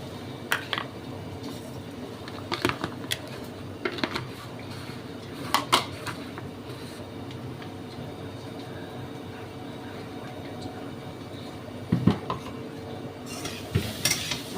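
Potatoes with sugar and salt frying in ghee in a pan under a continuous soft sizzle, with scattered clusters of utensil clinks and scrapes from stirring, close but fairly subdued.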